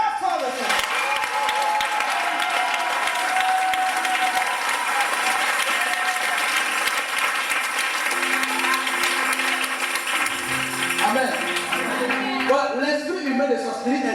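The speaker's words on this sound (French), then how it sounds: "Acclame très fort le Seigneur." A church congregation applauds and cheers the Lord in a sustained, dense wash of clapping and acclaim, loud and continuous, with musical tones rising beneath it near the end.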